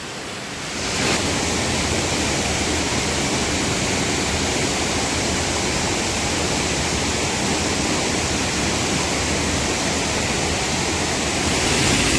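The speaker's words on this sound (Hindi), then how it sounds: "वहाँ से ढेर सारे वाटरफॉल गिर रहे हैं।" Several waterfalls plunge down into a valley near a remote Maharashtra village, making a loud, continuous roar of rushing water that holds steady without pause, with no voices.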